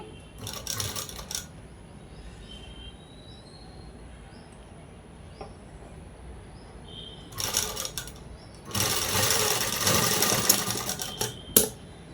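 A sewing machine stitches cloth to alter a readymade dress, sounding in several distinct close, loud bursts of rapid mechanical chatter separated by quieter pauses, with the longest run near the end.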